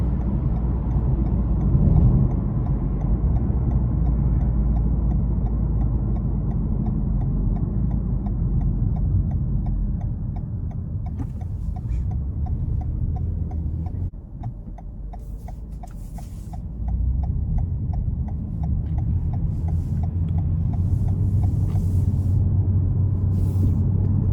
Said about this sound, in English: the transmission's doing a really good job at shifting, honestly, making sure I'm in those sweet spots to save on fuel in eco mode